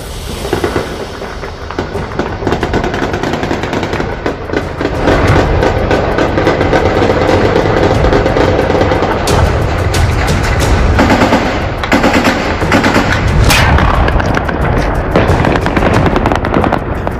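Dense, sustained gunfire over Kabul, with rapid bursts of automatic weapons and scattered sharp shots crackling continuously and loudly, layered and echoing across the city with no break.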